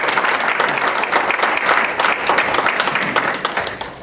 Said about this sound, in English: So I would like to right now just give a round of applause to all the veterans that are here.